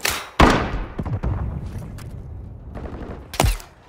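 Call of Duty gunfire: two sharp, loud shots with booming echoes, and a scattered thumping exchange between them, close by and without talk.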